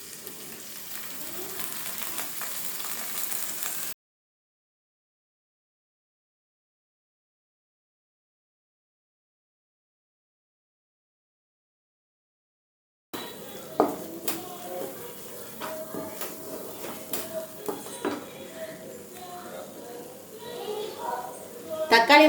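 Ground onion paste frying with masala in a pan for restaurant-style butter chicken, a steady sizzle with stirring scrapes, interrupted by a long silent gap and resuming louder with clattering stirs near the end.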